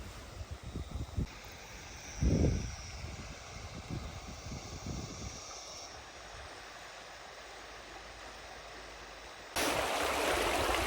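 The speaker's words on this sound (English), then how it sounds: "What I'm standing in is the start of the Macleay River." The Macleay River flowing as a small stream at the bottom of a mountain gorge, a soft steady rushing of water, with a few brief thumps and rustles nearby and a louder hiss toward the end.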